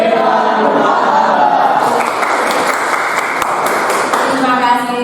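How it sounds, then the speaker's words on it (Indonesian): An audience claps in dense, steady applause while a loud voice talks over it. "Terima kasih, tepuk tangan sekali lagi buat kita."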